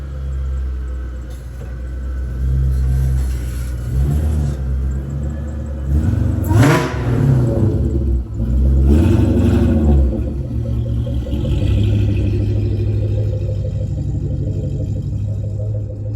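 A 700 hp Terminator Cobra engine runs steadily with a low, heavy rumble, swelling briefly with a couple of revs midway before settling back to a constant drone.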